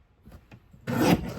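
A paper strip for a scrapbook page kit is trimmed horizontally, with faint light handling and then one loud, close, rough swipe of the cut lasting about half a second.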